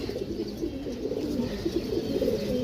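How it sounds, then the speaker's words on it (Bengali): Racing pigeons coo softly and continuously nearby, a low rolling burble repeating without pause. "এটি আমার রেস খেলা কবুতর"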